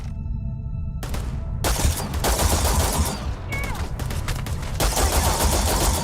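Turret gunfire in the video game Starfield roars in sustained, loud automatic bursts with short pauses between them, dense and close throughout.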